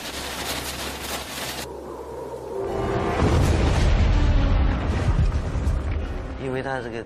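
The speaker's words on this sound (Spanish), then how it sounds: "La explosión hizo que se hundiera el suelo" A deep, heavy dynamite blast booms out and rumbles on for several seconds, loud and low, after a stretch of background noise, as the ground caves in.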